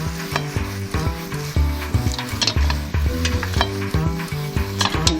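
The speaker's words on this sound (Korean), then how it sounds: "재빠르게 섞어주면 됩니다" Fried dried pollock skin tossed quickly in a glaze in a hot pan, with loud sizzling and repeated scraping, stirring clatter in a fast uneven rhythm, close up and without talking.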